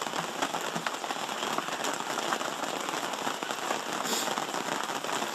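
Rain pattering densely on a tarp overhead, a steady close crackling patter that continues evenly throughout.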